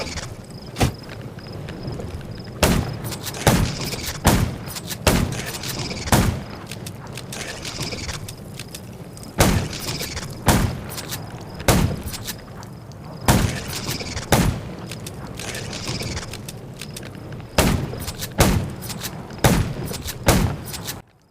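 Shotgun blasts ring out during a fight in the video game Undown, sharp booming shots spaced every second or two in clusters, loud and close, with a steady game ambience between them.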